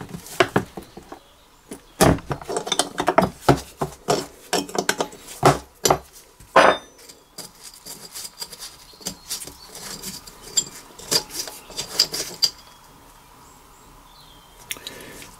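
Removing the float bowl from a rusty scrapyard mower carburettor makes close, irregular metallic clinks, taps and scrapes of parts and tools, with sharp knocks in the first seconds and lighter fiddling after.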